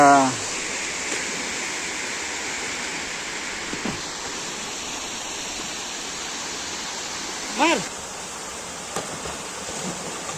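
Water pouring steadily over a dam, a constant broadband roar filling the scene, with a few faint voices of people nearby breaking through briefly.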